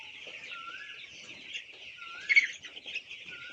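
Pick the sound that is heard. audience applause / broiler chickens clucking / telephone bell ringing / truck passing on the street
broiler chickens clucking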